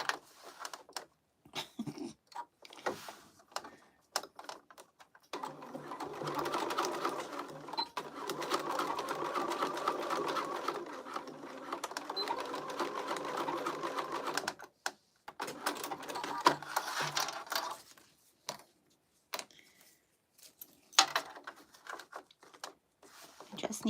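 Sewing machine stitching a crossbody bag in quick whirring runs, the longest stretch lasting several seconds, broken by pauses where a person talks nearby.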